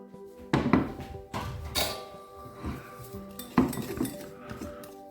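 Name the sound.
mixing mousse ingredients in a bowl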